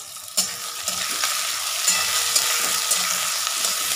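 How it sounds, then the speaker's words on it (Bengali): Onions frying in a pan, a loud, dense, continuous sizzle with occasional stirring clicks, close up and without speech. "পেঁয়াজটা ভাজছি"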